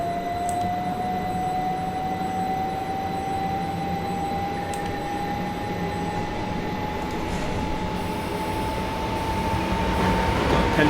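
Trains running in Train Simulator 2020 on a London line, a steady rolling rumble with a rising whine and a couple of sharp clicks, heard continuously without voices.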